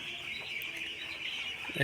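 A dense, continuous high-pitched cheeping of many nine-day-old broiler chicks, steady and close, with no other sounds standing out.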